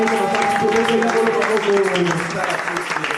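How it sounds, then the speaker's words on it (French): Church congregation applauding during a French-language sermon on spiritual fathers and sons, continuous dense clapping with crowd voices and sustained musical or vocal tones beneath it. "Acclamez."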